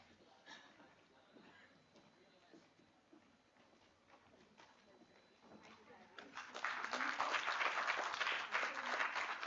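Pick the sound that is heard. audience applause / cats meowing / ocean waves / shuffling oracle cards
audience applause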